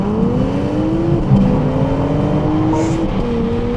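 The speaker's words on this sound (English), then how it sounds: "what I really love about the X5 is the exhaust note, especially in sports mode" A BMW X5 in sports mode lets out a steady, moderately loud exhaust drone with slowly shifting engine pitch, heard on its own without talk.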